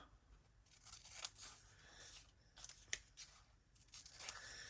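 Scissors trim junk mail paper for a junk journal, giving a few soft snips and crisp paper rustles close by in a quiet room.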